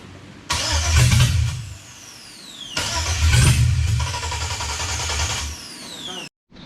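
A Chevrolet C10 with a swapped LS V8 is cranked twice for its first start, each attempt a loud churning burst of starter and engine that sputters for a couple of seconds, with people talking around it.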